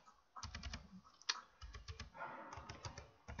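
Quiet, close clicks of a computer keyboard being typed on in short bursts of keystrokes with brief pauses between them.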